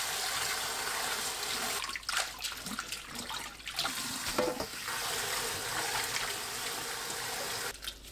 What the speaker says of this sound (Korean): 찬물에 2-3번 헹굽니다.